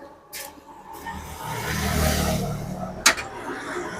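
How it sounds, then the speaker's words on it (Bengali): A new motorcycle engine at a bike showroom turns over and idles, rising briefly in a short rev, followed by a sharp click. Faint voices are in the background. "দাদা একবার আওয়াজটাকে শুনিয়ে দাও আচ্ছা, ইঞ্জিন শুনবে"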